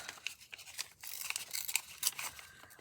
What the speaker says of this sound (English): I'm going to start by doing a really rough, fussy tear on this